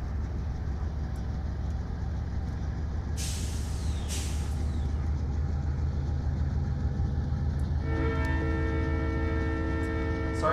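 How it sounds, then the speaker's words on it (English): A freight train rolls past on the Cajon Pass line with a constant heavy rumble, two sharp hissing air brake bursts, then a loud sustained multi-tone horn near the end. "Train just passed"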